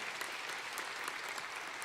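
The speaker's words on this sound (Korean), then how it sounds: "우리 한번 박수로 다시 한번 더 격려하시죠." A church congregation at a youth worship service applauds, dense continuous clapping heard from a distance at low volume with no voices.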